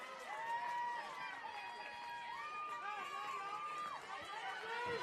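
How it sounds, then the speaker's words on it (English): Softball players in both dugouts cheer and chant during a high school playoff game, a dense mix of many overlapping voices in sustained, sing-song calls heard from a short distance. "Both dugouts cheering, making some noise."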